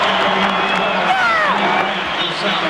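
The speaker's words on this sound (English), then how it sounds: "You would think this was Maryland Duke, the way the crowd is reacting." A basketball arena crowd at a college game in College Park roars and cheers with clapping mixed in, a dense sustained wall of noise with whistles and shouts rising over it, loud and close.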